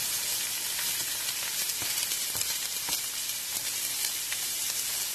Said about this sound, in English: we're going to go ahead and add our green peppers and onions